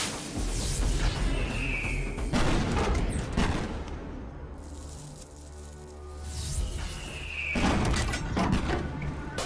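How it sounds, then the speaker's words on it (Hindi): Firecrackers burst in a dramatic film scene, loud sharp cracks and thuds arriving in two clusters with a quieter rumbling gap between them and no speech heard. "पटाखे की आवाज है।"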